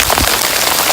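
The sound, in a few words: hail falling and pouring on hiker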